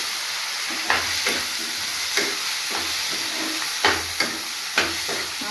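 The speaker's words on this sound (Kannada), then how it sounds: "ನಾನು ಈಗ ಕಟ್ ಮಾಡಿ ಇಟ್ಕೊಂಡಿರೋ ಬದನೆಕಾಯಿನ ಹಾಕ್ಕೊತಾ ಇದ್ದೀನಿ" Cut brinjal sizzles as it fries with onions in a pan, a steady hiss broken by several sharp stirring scrapes, close and alone with no voices.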